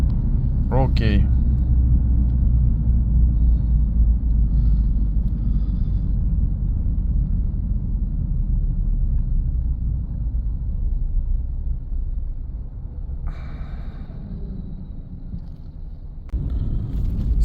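A Suzuki Swift with a faulty clutch actuator drives in low gear, giving a steady loud engine drone and road rumble throughout, with brief higher whines near the start and later on.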